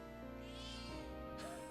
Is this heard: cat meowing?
yes